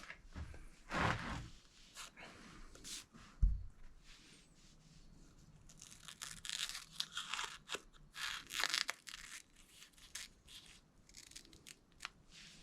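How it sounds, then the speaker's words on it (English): Scissors snip through arrow fletching in a string of crisp, close cuts and crunches, irregular in rhythm, with quieter handling rustles between them. "I'm pretty good with a pair of scissors."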